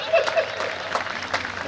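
A comedy show audience claps, producing a few scattered bursts of applause that stay fairly light and mix with a voice speaking over them.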